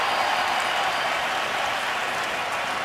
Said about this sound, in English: The fans are applauding it.